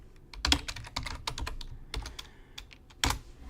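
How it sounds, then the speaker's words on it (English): Fingers tap rapidly on a computer keyboard, a close sequence of crisp clicks in uneven bursts with a few heavier key strikes, and no talking over it. "It's tough to type and talk at the same time."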